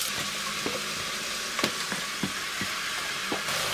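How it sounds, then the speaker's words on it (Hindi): Onions fry in hot ghee with a steady broadband sizzle, broken by several soft clicks and taps of a utensil against the pan; close and continuous, with no voices. "और घी जब गर्म हो जाए तो इसमें जो भी प्याज आप इस्तेमाल कर रहे हैं वो प्याज इसमें डालेंगे।"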